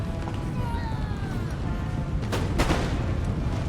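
Canister shot booms in Empire: Total War during a siege assault, with a couple of sharp blasts near the end over a dense, steady battle roar and faint whistling tones.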